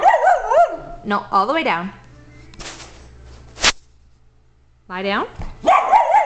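A dog gives a few sharp barks between stretches of someone talking, close by, with quiet pauses in between.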